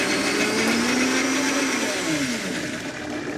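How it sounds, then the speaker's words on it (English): Blender pureeing cilantro, garlic and salt runs as a steady, loud motor whir with a slowly drifting pitch, continuous throughout. "we'll put the top on the blender and make a puree out of that cilantro and"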